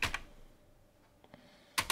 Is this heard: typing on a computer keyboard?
yes